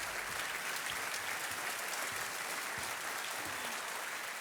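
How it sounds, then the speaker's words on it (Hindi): A game show studio audience claps steadily for contestants, a dense, even wash of applause sustained throughout at moderate level. "तालियां बजती रहें इनके लिए।"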